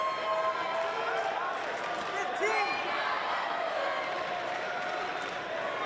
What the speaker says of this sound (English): Crowd getting into it with the home team.